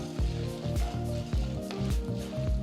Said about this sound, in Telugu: ఒక టేబుల్ స్పూన్ అంత పచ్చిశనగపప్పు ఒక టేబుల్ స్పూన్ అంత మినపప్పు వేసి వేయించాలి